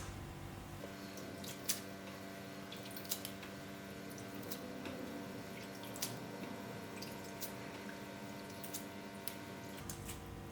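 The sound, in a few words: rinsing herbs in bowls of water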